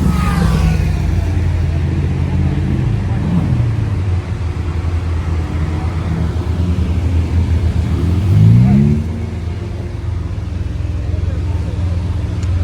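An SV supercar cruising along the Croisette in Cannes with a loud engine: a deep, steady growl, then a rising revving sweep around two-thirds through before it eases off, with people talking nearby.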